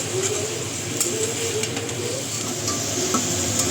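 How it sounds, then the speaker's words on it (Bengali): Onions frying with dry red chillies in a kadai give a steady, close sizzling hiss throughout, with faint stirring scrapes of the pan. "দেখো পেঁয়াজ হচ্ছে ভালো মতো একদম ভাজা হয়ে গেছে"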